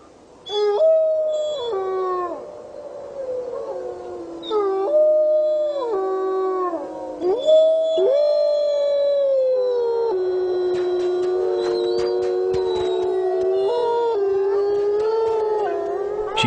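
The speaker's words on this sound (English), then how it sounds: "accumulating an archive of the pack's howls" A wolf pack howls with several long, overlapping voices rising and falling in pitch, some wavering and sliding, building into a sustained chorus heard fairly close with no talking.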